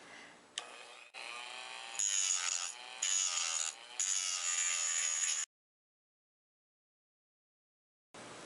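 A Dremel rotary tool with a cutting or grinding bit cuts fursuit eye material, a loud, close, whining grind in steady bursts for about five seconds, then silence before the tool starts up again briefly at the end.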